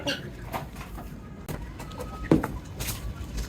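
Chickens cluck softly and intermittently nearby, with occasional sharper squawks over a low background rustle.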